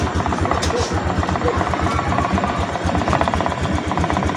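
A Honda Click 125i motorcycle engine idles steadily to charge its battery, a continuous close, loud pulsing rumble with no break.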